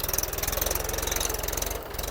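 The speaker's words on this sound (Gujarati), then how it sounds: "આવી ગયું ભાઈ અમારું ટ્રેક્ટર" A tractor engine idles nearby at a house construction site, a steady rapid chugging pulse with a low rumble, fairly loud and even before easing slightly near the end.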